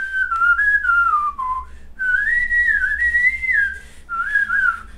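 A person whistles a melodic tune solo, clear and close, in three sustained phrases with short breaths between them and nothing else audible.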